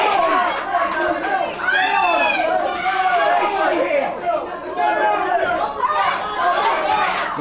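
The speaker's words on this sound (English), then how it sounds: "You can hear the crowd screaming." A boxing crowd at a live bout screams and chatters continuously, loud and close, with overlapping shouting voices rising and falling throughout.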